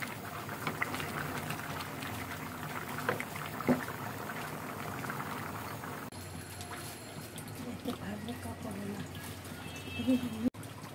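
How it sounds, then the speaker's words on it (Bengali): Khichuri in a covered pot bubbles and simmers steadily at moderate volume for several seconds, with faint background noise and a sharp clunk near the end. "এখন ঢাকনা দিয়ে ঢেকে যাচ্ছে, বলক আসুক, পানি কমে আসুক"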